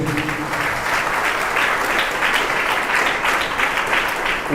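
A church congregation claps hard in a dense, continuous wash of applause that holds steady and loud from start to finish, with no voice over it.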